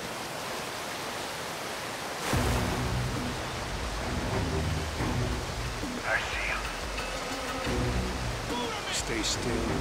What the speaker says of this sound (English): Get under the waterfall.